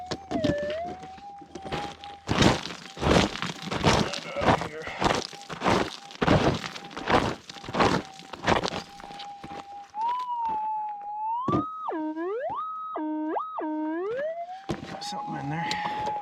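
A metal detector hums a steady tone over gold in a bedrock crack along a small stream bed. A burst of hard digging thuds cuts across it, then the tone swoops up and down repeatedly as the target signal sounds close.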